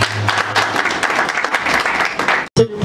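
Audience applause welcoming a speaker at a community foundation event in Lingwala, a dense, steady wash of clapping that cuts off abruptly near the end, with a brief murmur of voices after the break.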